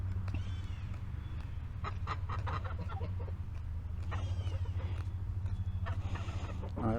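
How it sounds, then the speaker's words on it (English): Ducks on a farm call out in bursts of nasal honks and quacks, moderately near, over a low steady background hum, with several calls clustered in quick succession. "Those ducks are so loud."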